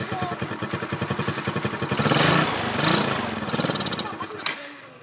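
A Yamaha Nouvo LC scooter with a stalling, throttle-hesitation fault and a clogged air filter runs nearby: a steady, rapid putter that swells in revs midway, then settles before cutting off abruptly at the end.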